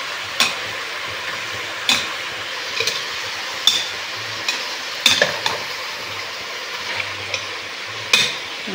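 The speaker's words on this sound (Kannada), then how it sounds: "ಸ್ವಲ್ಪ ಫ್ರೈ ಆಗಲಿ." Country chicken frying in a pan, a soft continuous sizzle broken by sharp, regular scrapes and knocks of a spoon stirring against the metal, about one every second or so.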